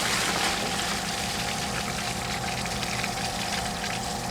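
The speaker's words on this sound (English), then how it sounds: "putting water back into the tank now." Water pours steadily back into a bead filtration tank, a continuous close, broadband rushing flow with no pauses and no voices.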